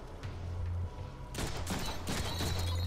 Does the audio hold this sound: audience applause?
no